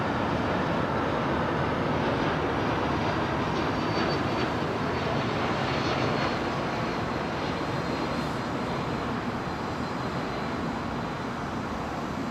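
Sukhoi Superjet airliner at London Heathrow Airport, runway 27L, giving a steady, broad engine roar that holds loud and constant throughout, with no voices.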